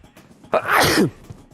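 A single sharp sneeze bursts out close to the mic during a studio interview program, loud and brief against a quiet background.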